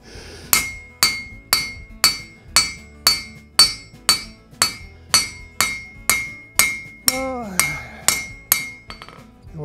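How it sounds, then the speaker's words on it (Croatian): A blacksmith's hammer strikes metal in a steady, ringing rhythm, about fifteen loud blows, each with a bright metallic ring that fades off, and a few lighter taps at the end. "da li nisam, kad udaram čekićem."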